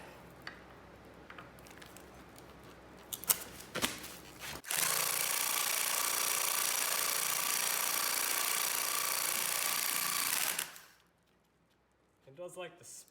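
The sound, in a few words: impact wrench on an Acura TL strut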